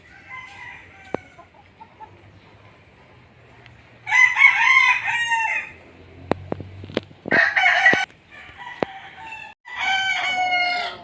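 A National Banded Sweater Tornado gamefowl rooster crowing loudly and close by, three separate drawn-out crows with quiet gaps, sharp clicks and a low murmur in between.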